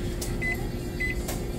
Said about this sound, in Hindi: कॉफ़ी बहुत ज़्यादा ठंडी थी तो हमने सोचा माइक्रोवेव ही कर रहे हैं